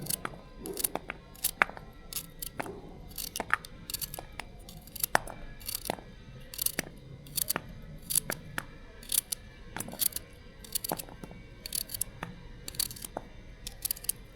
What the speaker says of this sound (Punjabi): ਇਸੇ ਤਰ੍ਹਾਂ ਸਾਰੀਆਂ ਮੂਲੀਆਂ ਚੀਰ ਲਾਂਗੇ ਆਪਾਂ ਨਾਲੇ ਪੱਤੇ ਚੀਰ ਲਾਂਗੇ